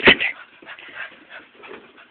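A dog gives a sharp high yelp and then several soft, breathy whimpers close by, the whining quick and uneven.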